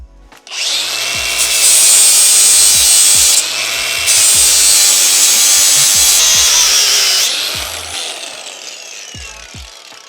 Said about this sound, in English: This might be a grinder job.